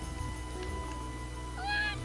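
A cat meows in a video game, one short rising meow near the end over a steady game music background, with faint talk nearby.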